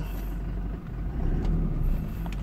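A Toyota Kijang Innova 2.4 diesel, a 2021 facelift with automatic transmission, revs briefly from inside the cabin, a steady low engine drone swelling slightly in the second half.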